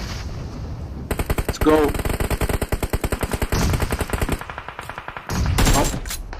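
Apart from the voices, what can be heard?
gunfire in PUBG Mobile video game battle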